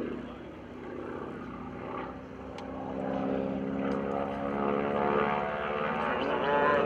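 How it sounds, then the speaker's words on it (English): An aerobatic airplane with a nine-cylinder radial engine roars overhead during a World War II airshow performance, its propeller drone swelling louder as it passes. "There's the roar of that 9-cylinder radial engine."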